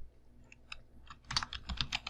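Fingers typing on a computer keyboard while building an Android app, a few sparse key taps giving way to a quicker run of clicks, close and alone without talk.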